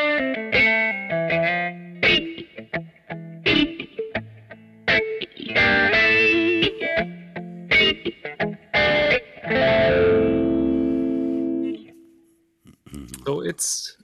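Electric guitar run through a Kemper Profiler special wah effect that shapes vowel-like tones, played in choppy bursts of distorted notes and a sustained sweeping phrase with pauses between, with speech-like vocal character and brief talking at the end.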